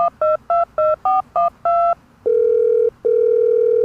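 A telephone is dialed to a housing agency's number, with a rapid string of keypad tones followed by a steady loud dial or ringing tone heard twice, close and clear.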